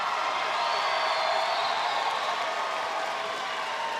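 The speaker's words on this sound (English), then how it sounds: "how about a round of applause for these 2 warriors tonight?" At a combat sports event, the crowd applauds the two fighters after the bout, a steady wash of clapping and faint cheering filling the room at moderate distance.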